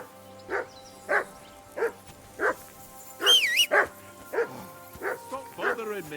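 In Kingdom Come Deliverance 2, a dog barks persistently, about ten sharp woofs at a steady pace. A rising and falling whistle sounds partway through, and a voice talks near the end.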